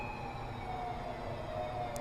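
Police car sirens in the video game Modern Warfare 3 wail in a steady, continuous drone under a dense rumble of traffic, holding at moderate loudness throughout.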